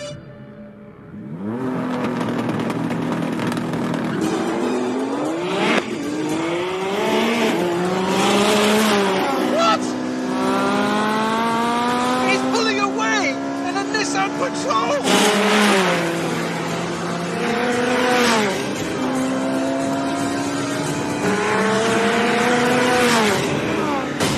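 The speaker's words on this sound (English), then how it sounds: "okay, race is on. Here we go." A Porsche 918 and a Bugatti Veyron drag race, with loud engines revving and rising in pitch through repeated gear changes. Strong acceleration sweeps build and fall back several times, with a voice heard over the roar.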